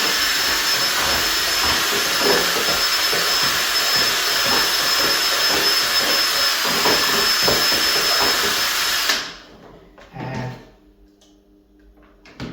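Paint being mixed in preparation for an airless sprayer, a loud steady whirring drone from a power mixer running continuously, then abruptly stopping, followed by faint handling knocks and near silence.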